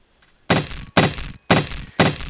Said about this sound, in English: the sound when the hammer is banging the wood sounds way too metallic